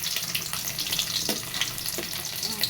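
Paneer pieces fry lightly in oil in a home kitchen, giving a steady soft sizzle with a few faint scrapes, close and alone.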